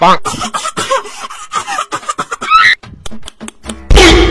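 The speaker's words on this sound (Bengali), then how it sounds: "দিদি এত এবনর্মাল ভাবে কে কাশি দেয় কত?" A voice talks quickly, then bursts into one loud, exaggerated cough at the end.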